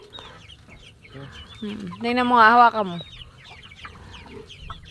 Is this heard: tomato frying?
no